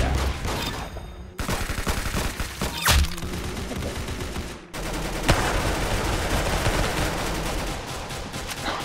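Rapid bursts of gunfire in the Roblox game Arsenal, dense volleys of loud shots with brief pauses between them, crackling and continuous after the last pause.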